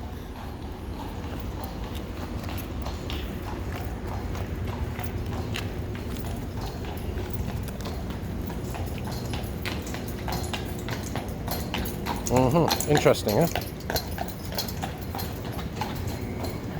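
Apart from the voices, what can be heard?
horse and carriage hooves clip-clopping on a street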